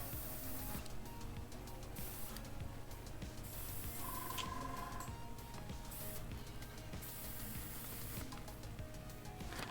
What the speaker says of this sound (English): I'm just making sure that the airbrush is flowing